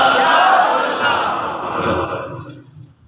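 A large gathering shouts a religious slogan back in unison, a loud roar of many voices that swells and then fades away toward silence.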